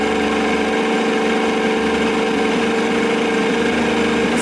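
A 1987 Johnson 70 hp outboard motor idles on the water with a steady, close, loud droning hum and faint vibrating rattle, holding an even pitch throughout with no voices.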